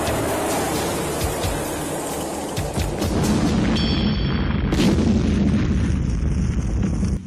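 A car packed with dynamite blows up in a 1989 schlock movie, a deep rumbling blast and roar of fire with crackling bursts that swells loudly midway and lingers as burning debris.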